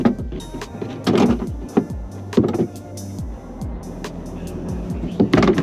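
A Class A RV macerator pump runs close by with a whining electric motor hum, rising and falling in pitch, broken by a few sharp clicks and knocks.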